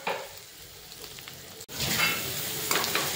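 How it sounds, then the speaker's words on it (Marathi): Chopped onion sizzling and frying in a kadai, a steady hiss broken by a brief pause and stirring scrapes, loud and close, no talk. "कढईमध्ये एक मोठा कांदा बारीक करप करून कापून घेतलेला आहे"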